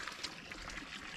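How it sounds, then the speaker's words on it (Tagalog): Spring water welling up and flowing at a natural spring where water is fetched, a faint, steady trickling and gurgling close by with no voices. "Diyan bumulwak yung tubig mga idol."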